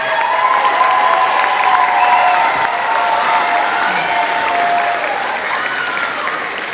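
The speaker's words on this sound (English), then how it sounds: "give them a round of applause" Audience applause fills a middle school spring band concert hall, a steady dense wash of clapping that holds evenly loud for several seconds before easing slightly toward the end.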